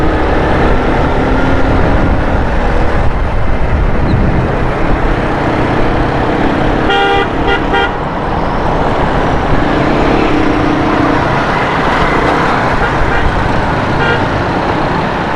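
Heavy traffic jam on a bridge near Lyari Expressway in Karachi, with a steady loud road roar and several car horns honking in short bursts partway through.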